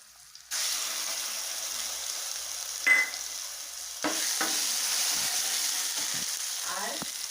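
Garlic, ginger and cumin paste hits hot oil for a Bengali rui fish curry, starting a steady loud sizzle after a brief silence, with a few sharp spoon scrapes and clatters against the pan.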